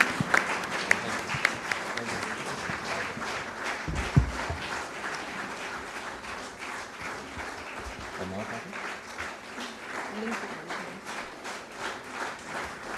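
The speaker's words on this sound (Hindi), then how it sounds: "एक दफा तमाम हाजरीन जरा भरपूर तालियां बजा के" An audience at a ceremony honouring a national sports hero applauds throughout, a steady wash of clapping at moderate distance with a few sharper nearby claps early on.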